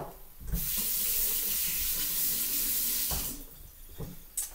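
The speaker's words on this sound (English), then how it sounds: "Wash my hands again with soap and water" Tap water runs hard into a kitchen sink while hands are washed with soap between steps of cooking wings. The rush starts abruptly, holds for about three seconds and then cuts off, leaving faint handling noises.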